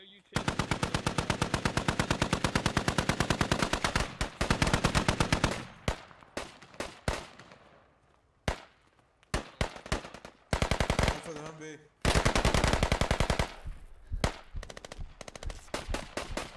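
Rapid automatic gunfire in the military shooter game Squad, long sustained bursts of loud machine-gun fire broken by brief pauses and isolated shots, with some faint voice chatter between bursts.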